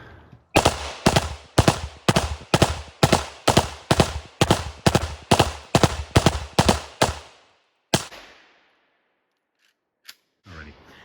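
A Pioneer Arms 5.56 AK rifle fires around sixteen loud, sharp shots at an outdoor range in a steady, rapid rhythm, each with a short echo, followed by a pause, a lone later shot and brief noise near the end.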